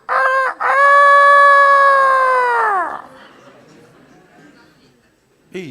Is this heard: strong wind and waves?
no